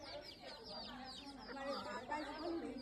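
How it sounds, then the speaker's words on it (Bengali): Chickens cluck at a family's grandfather's village home in Bangladesh, several birds calling in quick, overlapping bursts close by while someone talks over them. "মুরগিকে ডাকো।"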